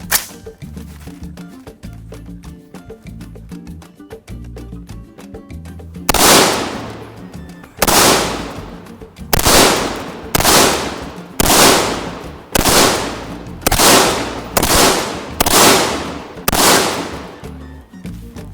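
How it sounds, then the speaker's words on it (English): Mosin rifle fired at a 50-yard target: after some quieter handling noise, about ten loud, sharp shots ring out at a steady pace roughly a second apart, each with a short echoing tail. "This is the Mosin at 50 yards."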